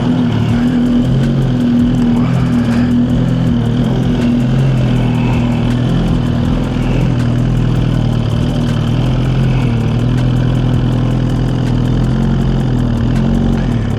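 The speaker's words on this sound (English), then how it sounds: "let's go with this little cold start real quick" A car engine idles steadily after a cold start, a constant low rumble with a deep hum holding throughout, close and fairly loud with no talking.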